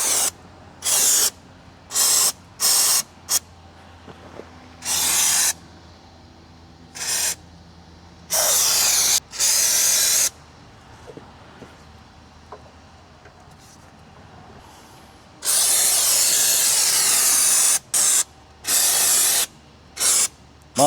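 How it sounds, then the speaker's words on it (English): A can of Gunk instant parts cleaner and degreaser sprays in loud, close hissing blasts, many short bursts at irregular intervals and one longer spray lasting a couple of seconds, with quiet gaps between and no talk. "I got some gunk instant parts cleaner and degreaser fast blast"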